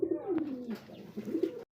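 A pair of fancy pigeons, one of them Indonesian, giving clear close cooing calls, a long falling coo followed by a shorter rolling one, then an abrupt cutoff.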